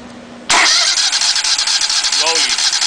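A Panther TM engine catches with its choke closed and roars straight into a loud, steady running rumble after a brief low hum, close by and continuous.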